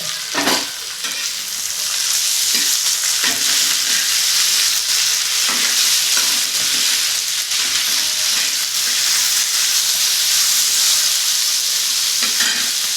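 Tomato and two green chillies frying in hot oil for a spicy soybean curry, a loud, dense, continuous sizzle with occasional stirring knocks and scrapes close at hand, no voices.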